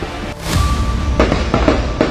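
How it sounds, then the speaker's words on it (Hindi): Gunfire during a militant encounter in Kashmir, with several sharp reports and booms at irregular intervals over a steady rumbling background, loud and at mid distance. "रुक रुक के फायरिंग की आवाज फिर आ"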